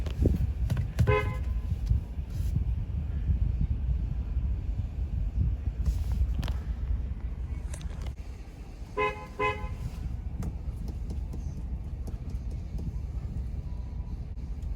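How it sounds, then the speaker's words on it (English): Two short car horn toots from a 2022 Jeep Grand Wagoneer Series III sound over steady road and engine noise: one honk early on, then a quick double honk a few seconds later. "You guys got a little bit of honking action there for a second."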